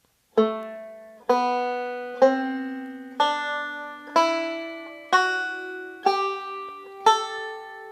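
Eight plucked banjo notes of an A Dorian scale ring out one by one, rising steadily in pitch in an even rhythm, each decaying before the next.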